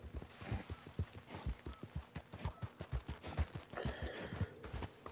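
Donkey hooves clip-clop at a steady walking pace in the video game Red Dead Online, close and distinct, with a brief faint animal call near the end.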